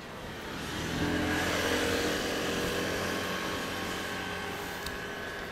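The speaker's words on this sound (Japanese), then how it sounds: "エンジンかけんの。" A lime-green Kawasaki motorcycle engine comes to life and settles into a steady hum with a rising, sustained drone, close by and with no talk.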